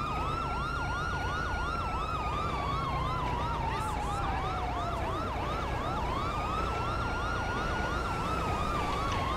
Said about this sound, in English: Should have turned my sirens off.